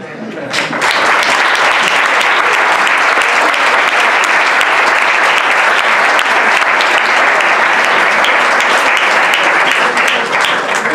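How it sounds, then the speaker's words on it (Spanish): Intense audience applause fills a hall at a civil society conference, with dense, loud clapping that surges in after a brief quiet start and then holds steady and sustained to the end. "pediría un aplauso más intenso para él."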